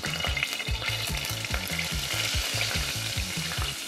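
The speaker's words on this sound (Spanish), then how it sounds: "en este aceite voy a echar mis condimentos en polvo." Powdered spices fry in hot oil in a pot for a Colombian-style curry, giving a loud, steady crackling sizzle with rhythmic scraping from stirring throughout, no voices.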